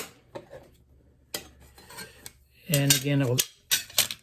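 Metal chisels clank and rattle against each other in short bursts of bright ringing clatter, with someone speaking briefly between them.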